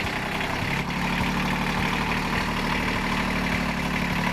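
A sailboat's inboard engine idles steadily after a quick start, a low, even chugging throb with a faint regular knock, close and continuous without talk.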